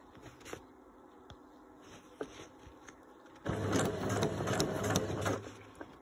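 A sewing machine zigzag-stitches elastic on a blouse, starting with soft ticks and handling noises, then running in a steady, loud mechanical whir for about two seconds before easing off, heard close up.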